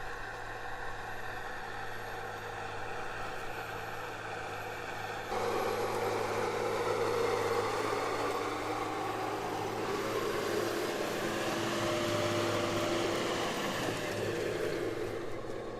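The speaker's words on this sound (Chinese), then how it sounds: "看这个拖拉机， 马力超级大" A high-horsepower tractor ploughs a Xinjiang cotton field about 40 cm deep at sowing time. Its engine holds a steady, loud drone that thickens partway through and rumbles on without pause.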